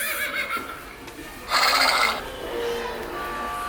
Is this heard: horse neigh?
yes